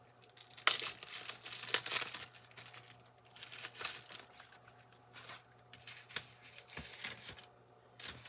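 Paper envelopes are pulled out and handled close by, giving irregular crinkling, rustling and sliding bursts of varying loudness with brief pauses between them.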